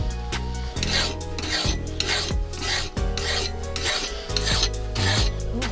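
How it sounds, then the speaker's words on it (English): Steel knife blade being hand-filed, a loud, steady rasp in repeated back-and-forth strokes of about half a second each, up close and continuous, with no voices. "I think we're down to hand filing"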